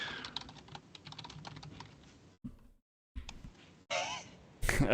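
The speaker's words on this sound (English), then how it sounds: "Everyone is like busy typing." Several people typing on computer keyboards, a quiet rapid patter of key clicks that thins and pauses, followed by a few scattered louder noises.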